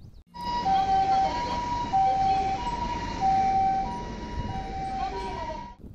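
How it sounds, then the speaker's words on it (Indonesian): A toy ambulance siren plays a two-tone electronic wail that alternates steadily between high and low pitches, loud and close, with a faint voice in the background. "Mobil ambulan."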